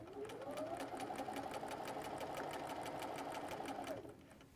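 A sewing machine stitching fabric for a soft baby blanket, an even rapid mechanical whir with regular needle ticks running steadily for about four seconds before slowing to a stop, close but quiet.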